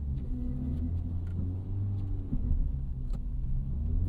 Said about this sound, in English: I'm about to do a stupid looking front wheel drive burnout.